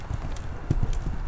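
Horse hooves cantering on the footing of a riding arena, a quick irregular run of soft thuds at moderate distance with faint background noise.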